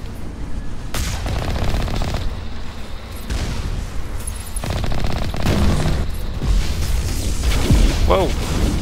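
Geth turrets in the Mass Effect video game firing bursts of rapid automatic gunfire, loud and close, with repeated volleys and booming impacts overlapping across the stretch.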